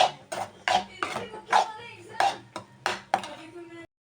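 Egg fry is stirred in a pan with a metal spatula, producing about seven rhythmic, close scraping strokes against the pan before the sound cuts off.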